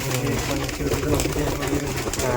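Pigeons at a racing pigeon farm coo in low, throaty, repeated murmurs close by, heard under people talking.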